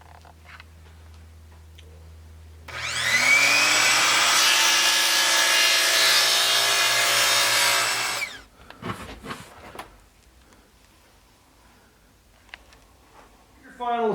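A chop saw mitres wooden inset frames for a corner base Lazy Susan cabinet, its motor whining loud and steady for about five seconds before spinning down, followed by scattered workshop knocks and handling sounds.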